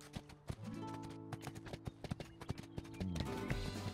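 Hooves of the horse Spirit gallop in the game Spirit Lucky's Big Adventure, a fast, steady clip-clop rhythm of close, crisp hoofbeats over light background music.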